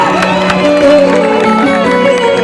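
An audience at an outdoor stage show at a festival claps along, steady applause and crowd noise under loud amplified music.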